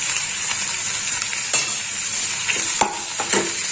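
Turmeric and chili powder fry in a little oil with garlic, a steady close sizzle broken by a few scraping stirs of a spoon against the pan.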